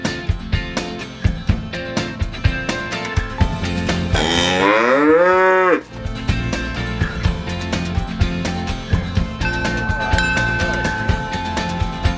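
A cow gives a long, loud, low moo in the middle, surrounded by upbeat background music with a steady beat.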